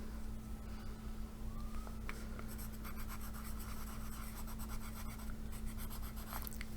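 Pencil scratches softly across paper in close, quiet strokes, short scribbles at first, then denser writing with a faint steady hum underneath.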